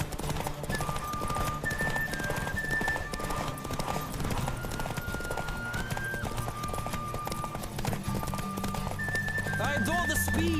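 A horse gallops in The Witcher 3: Wild Hunt, steady rapid hoofbeats running throughout under music and a voice speaking over it.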